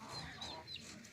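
Chickens cluck faintly outdoors after rain, a few short calls at a distance over quiet ambient noise.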